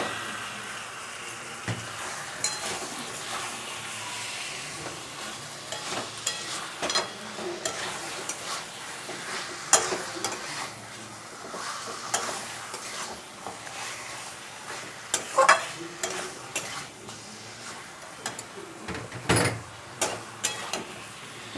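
Chicken marinated in salt, turmeric and pepper fries in hot spiced oil in a pan, a steady close sizzle running throughout with frequent scraping and clattering stirs of a utensil, no voices.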